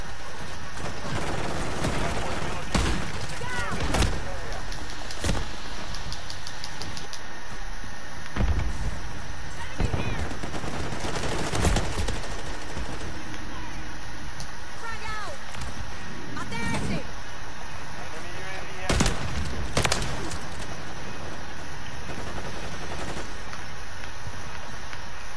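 Bursts of gunfire from Modern Warfare III guns ring out in a rapid exchange during shotgun-and-knife play, shots scattered irregularly over steady game noise while a voice talks throughout.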